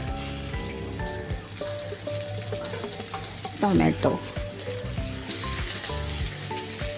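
Chopped onion and green chili sizzle steadily in a little oil for a purslane (ghol) bhaji, with a brief burst of stirring midway and a short spoken word over the frying.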